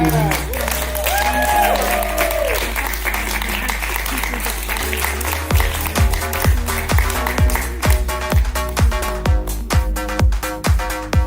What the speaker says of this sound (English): hand of applause for all our queens, please.